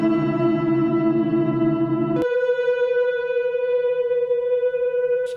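An Instruo Arbhar granular synthesizer module plays a chord, a dense, bright sustained tone with effects that abruptly shifts to a thinner, higher sustained pitch midway and rings on steadily.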